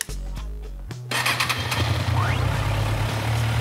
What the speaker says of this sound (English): So okay, let's start the engine.